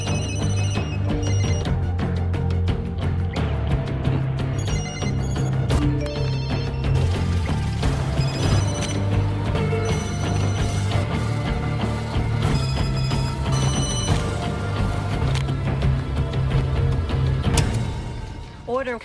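Many telephones ring at once in a tense film scene as a contract is sent to hitmen across America, sounding loudly over a dense music score, with the ringing continuing steadily for most of the stretch.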